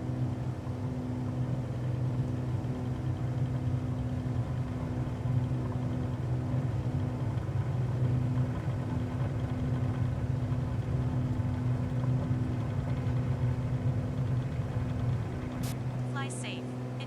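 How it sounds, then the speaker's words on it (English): A simulated aircraft engine in Microsoft Flight Simulator drones steadily, a low, even rumble with a constant tonal hum that holds for the whole stretch, with a brief high chirp near the end. "So this engine actually sounds like it means business."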